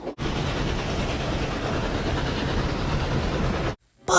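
A steam locomotive chuffs steadily and fairly loudly nearby with a dense, rumbling rail-like texture, cutting off abruptly near the end.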